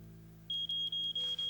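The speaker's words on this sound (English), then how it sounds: "Is that the smoke alarm?" A smoke alarm sounds in a home kitchen where a grilled cheese is burning, giving a piercing high-pitched tone in four or five rapid pulses with tiny gaps, loud and alone after a quiet hum.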